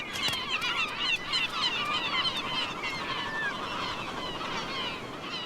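Kelp gulls calling at a coastal colony in South Africa, a busy chorus of overlapping squealing and honking cries at middle distance over a steady background rush.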